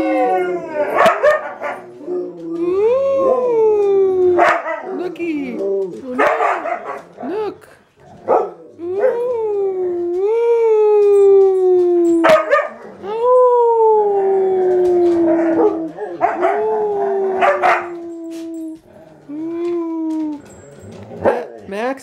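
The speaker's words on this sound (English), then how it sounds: "he has got the cutest little howl" Husky dogs howl in long, rising and falling wavering cries, one after another, close and loud, with a person talking over them at times.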